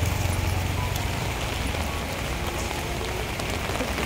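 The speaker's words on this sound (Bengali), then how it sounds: "এখন চারদিকেই বৃষ্টি হচ্ছে" Heavy rain falls all around in a dense, steady hiss and patter, loud and unbroken throughout, with no talking.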